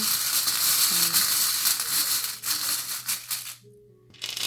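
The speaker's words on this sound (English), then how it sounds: "It's just a small charm bowl." Charms shaken in a small charm bowl, giving a continuous dense rattling and clinking. Several louder jostles stand out before the sound stops briefly and then starts again.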